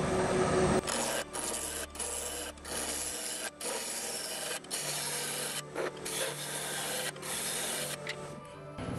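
Bowl gouge cutting a wooden Viking-style bowl on a lathe spinning at about 1000 rpm, a continuous close scraping rasp broken by brief dips as the tool shifts, with a low motor hum underneath.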